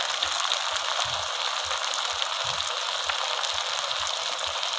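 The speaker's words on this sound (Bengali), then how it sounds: "পেঁয়াজটা লাল করে ভেজে নেব।" Onions frying with ground spice paste in a pan while a chicken curry with potatoes is being cooked, giving a steady, close, loud broadband sizzle with no talk.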